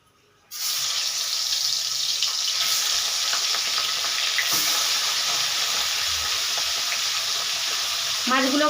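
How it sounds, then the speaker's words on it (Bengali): Parshe fish sizzle hard in hot mustard oil, the frying starting abruptly after a short silence and holding a loud, steady crackle with small spits and pan stirs throughout. "মাছগুলো আমি ভেজে নেব।"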